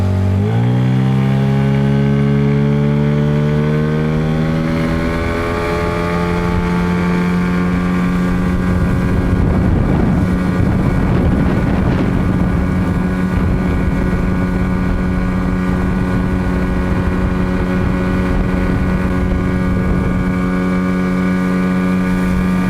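A Tohatsu outboard motor running on 95 petrol drives a small boat, climbing in pitch as it accelerates and then holding a loud, steady engine drone close by, with no voices.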